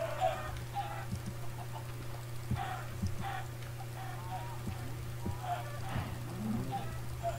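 Minecraft chickens cluck in short bursts during a party minigame, faint clucks spaced out over a steady low hum and soft background noise.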